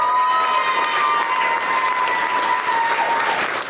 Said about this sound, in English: a round of applause for the young lady that killed rats.